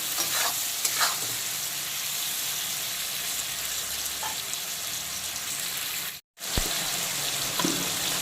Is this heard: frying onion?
yes